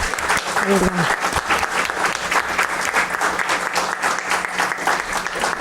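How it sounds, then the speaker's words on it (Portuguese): Sustained applause from a crowd, steady and fairly close, with a voice briefly audible near the start. "do professor Ricardo César Pereira Lira, Uma salva de palmas."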